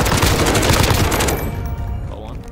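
Loud, dense automatic gunfire rattles continuously up close in the battle royale shooter Call of Duty Warzone, then cuts off abruptly into a quieter lingering tail.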